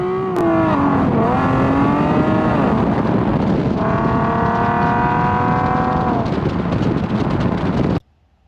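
An Infiniti G37 with its wheel spacers removed drives down the road, its engine loud and close. The revs rise and fall, shifting pitch through the run, with steady wind rush over the microphone until it cuts off abruptly near the end.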